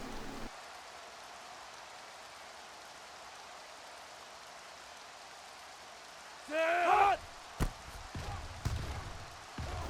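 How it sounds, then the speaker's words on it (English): Rain falls in the NCAA Football 06 video game, a steady, even hiss of noise that runs through the whole stretch, with a short burst of crowd or commentary noise and a few thumps late on. "The rain is showing up now."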